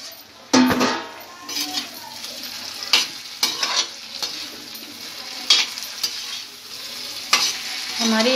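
Pumpkin sabji cooks in a pan, a loud close sizzle with frequent scraping stirs and sharp clinks of a spoon against the pan, repeating irregularly throughout.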